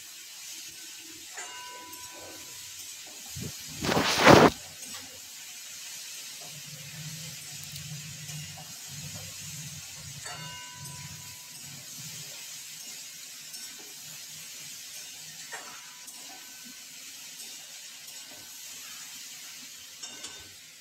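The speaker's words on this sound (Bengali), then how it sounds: "এবার আমি ভালো করে ভেজে নেব" Jackfruit seeds and fish head fry in a pan, starting with a sudden loud burst of sizzling that quickly settles into a softer, steady crackle with no voices.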